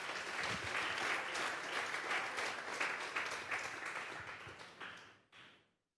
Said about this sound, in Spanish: Denle un fuerte aplauso al Señor esta noche.